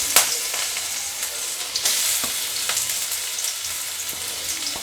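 Potatoes fry in hot oil in a pan, making a continuous close sizzle with scattered sharp crackles and pops and no talking.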